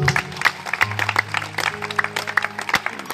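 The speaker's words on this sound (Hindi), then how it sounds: "एक बार मेरे बाबा के लिए जोरदार ताली बजा दे।" A crowd at a live Shyam Baba bhajan programme claps loudly for Baba, a dense, rhythmic clatter of many hands over a sustained musical drone, with no one talking.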